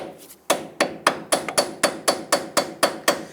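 A hammer taps an 18mm socket onto a badly rusted nut on a 2000-2006 Toyota Tundra front lower control arm, about a dozen sharp metallic strikes in a steady, even rhythm, close and loud.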